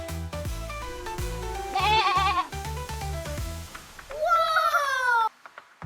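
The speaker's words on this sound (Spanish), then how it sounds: "Cabra." Goat bleating over cheerful children's background music, two wavering bleats, one in the middle and a longer one near the end, loud and close.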